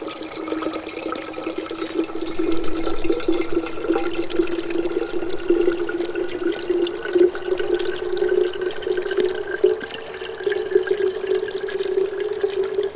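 Water runs steadily from a filter into a 1 liter Nalgene bottle outdoors on a trail, a continuous close, fairly loud trickling stream with no talking.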